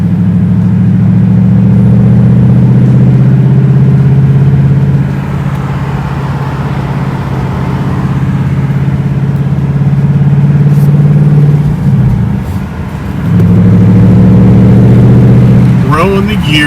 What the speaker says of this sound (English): Growing the gears, that's what it's all about in these Mustangs.